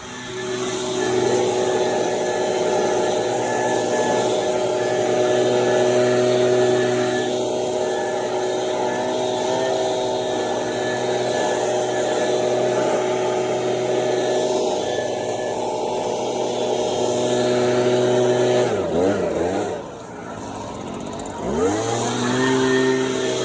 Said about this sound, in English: I started using the blower to blow out all the landscaping